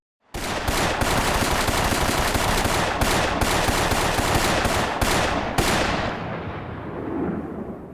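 Anime gunfire: loud rapid bursts of automatic shots in a dense sustained barrage, with a few sharper single cracks standing out, fading away at the end with no talking.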